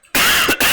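A single sharp cough from a man recording a Diablo III speedrun guide, close and loud, with a brief second burst after a short pause.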